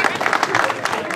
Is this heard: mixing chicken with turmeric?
no